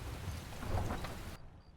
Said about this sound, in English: thundering and lightning out,